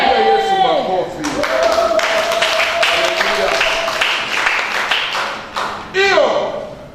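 Church congregation clapping for Jesus during a Swahili sermon, a dense run of hand claps lasting several seconds between stretches of a preacher's loud amplified voice.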